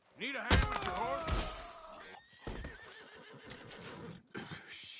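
A horse in the Red Dead Redemption 2 video game whinnies loudly up close, with shaky harmonic neighs and snorts, followed by clopping hooves and a few thuds, while a voice talks briefly over it.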